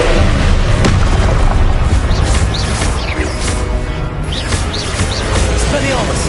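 Fire-spell blasts in Hogwarts Legacy, a run of loud booming bursts with crackling debris, close and continuous amid other game noise, with talk over it.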